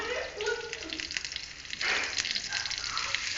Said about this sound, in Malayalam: കുറച്ച് കറിവേപ്പിലയും കൂടെ ചേർക്കാം അതിലേക്ക് നമ്മൾ ചോപ്പ് ചെയ്ത പപ്പായ